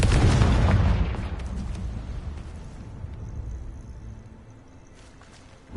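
A Confringo fire spell explodes in Hogwarts Legacy with a single loud, close boom that rolls off into a decaying rumble over several seconds, followed by a faint tonal shimmer.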